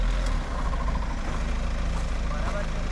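An off-road SUV's engine drones steadily as it is driven over a riverbed, a loud continuous rumble with a slight dip near the start. People talk over the engine.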